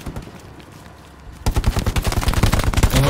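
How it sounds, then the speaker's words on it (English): Rapid machine gun fire in the World War II shooter game Hell Let Loose: a quiet stretch, then dense, steady bursts of loud automatic shots that run to the end. "There's a machine gun right other side."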